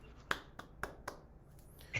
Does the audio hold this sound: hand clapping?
yes